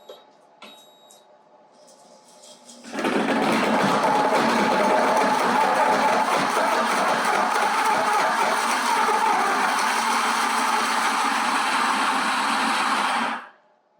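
An electric cheese grater grinds fresh cheese for a spinach Alfredo pizza, a loud steady motor whir that starts after a few quiet seconds and runs evenly for about eleven seconds before cutting off.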